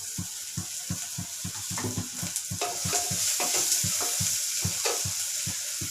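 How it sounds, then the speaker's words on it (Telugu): Masala for mutton gongura sizzles steadily in a pan while a spoon scrapes and stirs in a regular, close knocking rhythm, with no talking. "ఒక 2 నిమిషాలు ఫ్రై అవ్వనిద్దాం."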